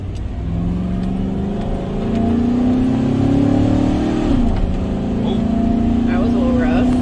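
A truck fitted with a new 4L80-E transmission shift kit pulls away from a complete stop, its engine note climbing steadily then dropping at a shift before pulling again, loud inside the cab with some talk over it.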